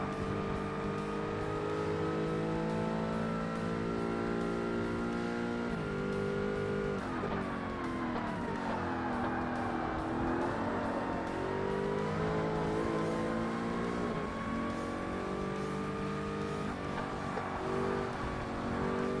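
A Porsche race car engine in Forza Motorsport, an R-GT professional class race, revs hard and continuously, its pitch climbing through the gears with brief dips at shifts, loud and steady throughout.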